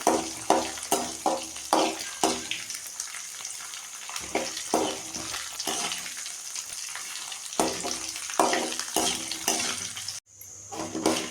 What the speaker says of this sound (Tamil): ரெண்டுத்தையும் பொன் வறுவலாக வறுத்துக்கோங்க.